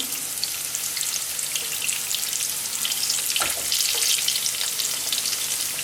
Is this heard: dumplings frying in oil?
yes